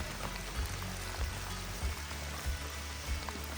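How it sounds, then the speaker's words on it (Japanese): Heavy rain pours down steadily on overgrown land being cleared of bamboo roots, a dense unbroken hiss broken by soft low thuds at regular intervals. "もう雨が強すぎるので"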